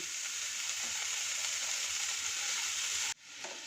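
Tomatoes and vegetables frying in a pan on medium heat for a hot and sour spring onion soup, a steady loud sizzle with soft stirring scrapes that briefly drops away near the end.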